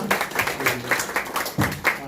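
A small group claps steadily for a couple of seconds during a Sunday church service, a soft, even patter of applause in a room.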